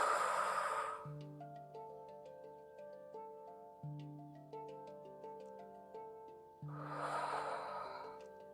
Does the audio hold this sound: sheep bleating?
no